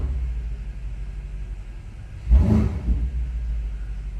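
Warm BMW M5 Competition V8 with the exhaust button on, a single deep burble swelling briefly out of a steady low idle rumble, then settling back down.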